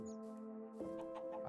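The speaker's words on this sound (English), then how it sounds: "There's a lot of cows and chickens here, so that's cool" Chickens cluck in Minecraft, a few short clucks near the end over a steady background music tone, fairly quiet, with no speech.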